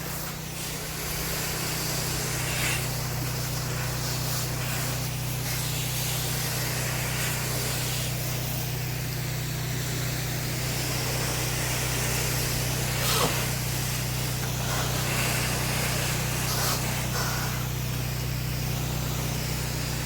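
A soft wash sprayer mists cleaner onto a bug-covered house wall near a lake in Kissimmee, Florida, producing a continuous loud hiss over a steady low pump hum that runs throughout.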